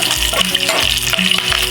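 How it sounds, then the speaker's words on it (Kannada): Chillies hitting a hot non-stick pan with sizzling oil, frying loudly and steadily up close with bursts of crackle and a few scrapes of stirring, during mushroom curry preparation. "ನಾನು ಇದಕ್ಕೆ ಚಿಲ್ಲೀಸ್ ಹಾಕೋತಾ ಇದ್ದೀನಿ."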